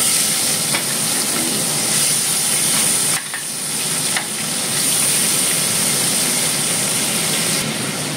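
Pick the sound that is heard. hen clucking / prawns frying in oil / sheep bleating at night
prawns frying in oil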